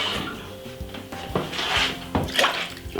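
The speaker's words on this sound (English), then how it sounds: "Just rinse out my glass" Tap water runs while a glass is rinsed out in a home kitchen during rice and peas cooking, with splashing surges and a clink or two of glassware, close and fairly quiet.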